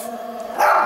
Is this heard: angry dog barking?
yes